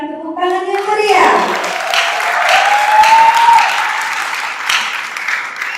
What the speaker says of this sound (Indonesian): Sekali lagi berikan tepuk tangan yang meriah.